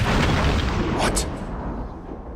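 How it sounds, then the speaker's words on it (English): A grenade blast in Batman: Arkham City, a loud, dense boom that fills the whole clip and slowly fades, with a brief bright crackle near the middle. "Grenade!"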